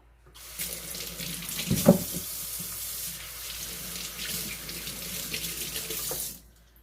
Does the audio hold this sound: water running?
yes